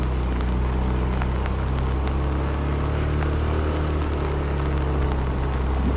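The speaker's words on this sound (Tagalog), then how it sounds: "Oh, lakas ng ulan." Heavy rain drums densely and continuously during a wet uphill ride on an NMAX turbo scooter, a loud broadband hiss blended with the engine's low hum and no talking.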